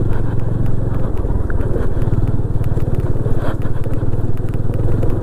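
A motorcycle climbs a hilly forest road in Odisha, its engine a loud, close, steady low throb with rapid firing pulses, plus rattles and some wind rumble, carrying on without a break.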